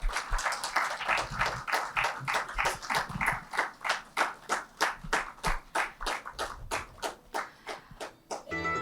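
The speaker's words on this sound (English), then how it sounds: "We'll welcome her with a round of applause." An audience at a Sunday evening spiritual talk claps to welcome a guest speaker, a close, rhythmic clapping in unison with steady, evenly spaced beats that continue to the end.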